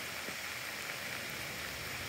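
Heavy rain pours steadily outdoors during a flood at a homesite, a dense, even hiss that stays loud and unbroken with no voices heard.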